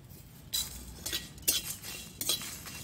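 Spices such as mustard, black cumin, fenugreek, chilli and coriander being stirred in a pan over a low flame for mango pickle, with several sharp metallic scrapes and clinks of a spoon against the pan, fairly quiet.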